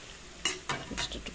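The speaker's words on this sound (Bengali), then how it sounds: "দেখো ভাজাও হচ্ছে।" Food frying in a home kitchen pan, with soft sizzling bursts and stirring scrapes recurring in short clusters, close and moderately quiet, no talk.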